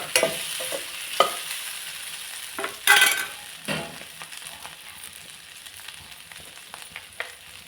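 Vegetables being stir-fried in a pan for a Malvani-style veg thali, with scraping stirs and soft sizzling coming in irregular bursts, close and fairly quiet, with no talk.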